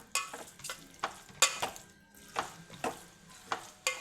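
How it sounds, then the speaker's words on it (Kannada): Sabudana (tapioca pearls) frying in ghee in a pan, with repeated stirring scrapes over a soft, quiet sizzle, close and steady with regular strokes. "ತುಪ್ಪದಲ್ಲಿ ಇದು ಚೆನ್ನಾಗಿ ಫ್ರೈ ಆಗಬೇಕು."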